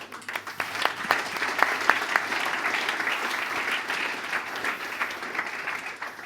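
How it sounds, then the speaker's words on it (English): Warm, steady applause from a conference audience after a talk on rendering performance, many hands clapping together at a distance, with a few sharper claps standing out near the front. "So big hand of applause for David,"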